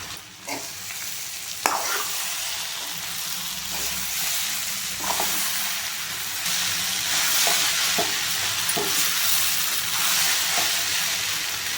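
Mixed vegetables frying in a pan with makhana, raisins and kasuri methi added, a steady loud sizzle with repeated stirring clinks and scrapes throughout, no talk.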